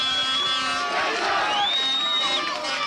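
A rugby league crowd at Keighley versus Warrington reacts to a kick at goal, a sustained roar and hubbub with whistles rising over it and a commentator's voice underneath.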